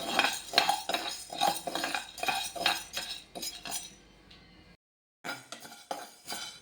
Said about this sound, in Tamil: அதனால் இந்த உளுந்தை நல்லா தொடச்சிட்டு சுத்தம் பண்ணிட்டு எடுத்து வந்து வறுக்கிறேன்.